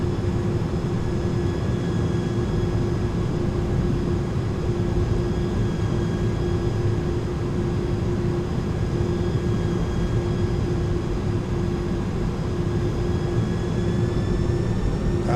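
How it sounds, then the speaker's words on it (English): A FedEx airliner comes in to land at Atlanta in Microsoft Flight Simulator, a constant broadband engine and airflow drone with a faint steady whine running unbroken throughout, no voices. "We've been cleared to land."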